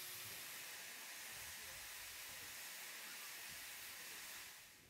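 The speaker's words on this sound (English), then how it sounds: "having a puffing steam engine alive and well in front of them" A steam locomotive at Tanfield Railway gives off a steady, faint, continuous hiss that stays even throughout and tails off slightly at the end.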